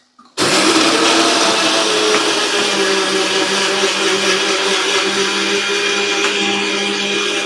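A mixer grinder grinds gongura chutney, starting abruptly after a brief clunk and then running as a loud, steady, high-pitched whirring drone that holds throughout with no talk.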